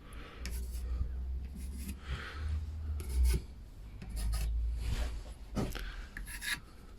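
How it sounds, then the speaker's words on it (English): Inside edges marked by hand on beech timber frames for a shaker-style cupboard, a series of short dry scratchy strokes at close range over a steady low hum, with brief pauses between marks. "And I'll mark my inside edges."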